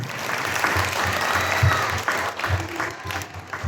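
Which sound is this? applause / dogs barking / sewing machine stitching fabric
applause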